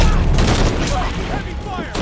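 Heavy gunfire from the video game Shadow of the Tomb Raider, a dense, loud burst of rapid shots layered under shouted voices and game noise, sustained for a couple of seconds.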